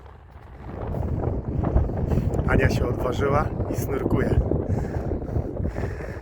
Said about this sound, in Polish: Wczoraj ich nie było, a dzisiaj widać, że się wiatr wzmógł